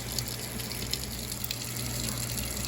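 Running tap water rinses out a Ziploc bag in a kitchen sink, a steady close gushing stream with faint crinkly splashes throughout, no speech.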